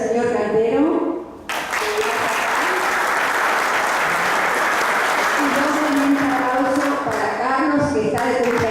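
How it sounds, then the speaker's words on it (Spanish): Loud, sustained audience applause fills a conference hall at an investment expo, a dense wash of clapping running for several seconds, with a voice speaking over it at the start and again near the end. "quiero un fuerte aplauso"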